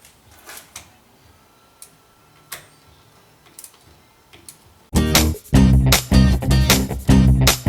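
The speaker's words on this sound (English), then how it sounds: "torque every bolt, little torque wrench" A small torque wrench tightens bolts on battery hold-down straps in an electric-converted BMW 320i, giving sparse sharp clicks at first, then a run of loud, dense ratcheting bursts close by.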